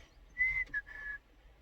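A sheepdog command whistle gives the left-turn signal as a shrill two-part note: a long high tone, a short break, then a second sustained tone, heard alone and moderately faint.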